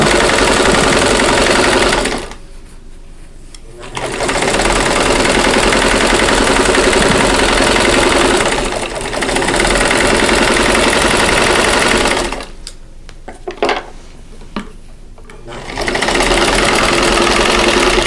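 A domestic sewing machine stitches quilt blocks together for a sampler quilt top, whirring loudly and steadily in three long runs separated by brief pauses, with no talking.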